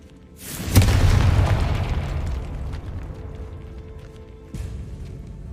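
A Confringo fire spell erupts in Hogwarts Legacy with a loud booming blast and a rumbling tail that fades over several seconds, followed by a second, softer burst near the end.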